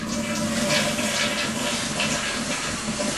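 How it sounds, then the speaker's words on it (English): A household toilet, just reseated after its loose bolt was fixed, flushes with a steady, loud hissing rush of water that runs unbroken for several seconds, with no one speaking. "I'm going to go ahead and flush the toilet"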